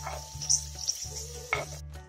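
Peppers sizzle and crackle steadily in a large pot, with a low hum underneath and a few clinks of a utensil stirring.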